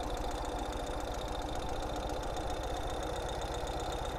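A Ural TJ750 motorcycle engine idles, a quiet, even, steady low chugging pulse that runs the whole time with no one speaking.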